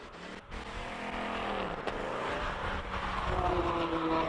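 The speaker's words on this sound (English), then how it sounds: "Beautiful Mustang going up the hill." A Ford Mustang accelerates up a hill climb course at a Cape Town speed event, its engine roaring steadily and rising in pitch as it pulls away, with a passing whoosh and faint crowd ambience.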